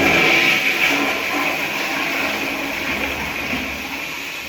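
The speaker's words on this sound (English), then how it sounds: "All right, let's flush that." A Camco camping toilet flushes with a loud, steady rush of hissing water close by, slowly easing off over a few seconds.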